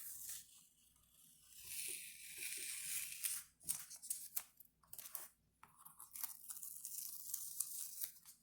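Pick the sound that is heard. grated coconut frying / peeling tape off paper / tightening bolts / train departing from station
peeling tape off paper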